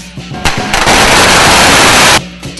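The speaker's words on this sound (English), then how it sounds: "rang in the new with firecrackers" Firecrackers burst in a long, loud, dense crackling volley at a Chinese New Year street festival in Los Angeles, with a few scattered pops before and after the main barrage.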